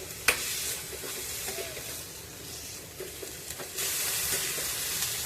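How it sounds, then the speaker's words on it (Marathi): Pigeon pea beans, tossed with spices over medium heat, crackle and sizzle close by in a pan while being stirred, and the hiss swells louder near the end. "मीडियम आचेवर गॅस ठेवून हे दाणे एक ते दोन मिनटं चांगले परतून घ्यायचे आहे"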